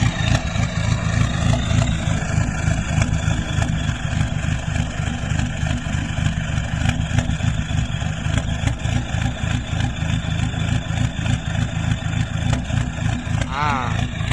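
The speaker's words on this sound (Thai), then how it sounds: "วันนี้จะพามาดู มาฟังเสียงเดินหอบของ วีโก้นะครับ" A Toyota Vigo 2.5 pickup engine, stock, idling roughly with a surging idle: a continuous uneven throbbing rumble with a slight hunting pulse, close up and steady throughout.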